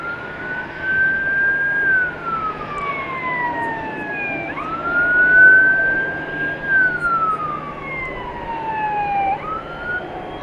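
A fire truck siren on the grounds of DFW Airport at night, wailing in long rising and falling sweeps that repeat twice, fairly loud and steady against a low background rumble.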